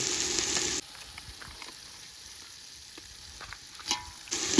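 Crab for a village-style crab gravy fries in a pan, with a loud hissing sizzle at the start and end and quieter stirring scrapes in between.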